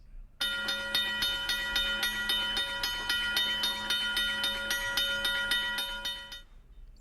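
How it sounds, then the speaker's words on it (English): A train approaching a level crossing, with steady harmonic tones pulsing in a regular rhythm like crossing bells or a horn, holding loud and even for about six seconds before cutting off. "A train was coming."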